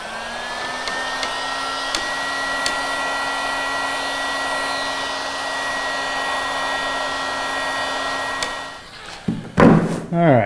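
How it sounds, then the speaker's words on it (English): A DeWalt heat gun blows hot air with a steady, loud whooshing whine for several seconds before switching off, followed by a few clunks and knocks of handling, during a wooden strip kayak build. "And I'm going to take a heat gun."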